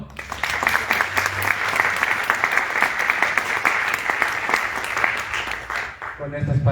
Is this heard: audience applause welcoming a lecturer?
yes